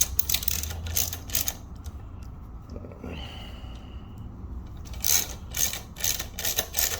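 A ratchet with a 12 mm socket works bolts on a wrecked Honda CB500F motorcycle around the triple clamp and handlebar clamp, making close clicking runs at the start and end with a quieter pause between.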